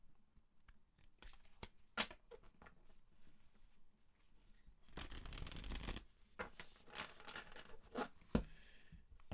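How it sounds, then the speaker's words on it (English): Tarot cards riffle and flap in quick bursts close by, with one longer, denser shuffle in the middle and scattered taps between. "let's just have a couple of shuffles."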